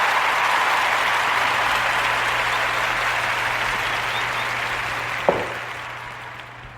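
A crowd bursts into sustained, dense applause that holds steady and slowly fades over several seconds, with a single sharp knock late in the clip.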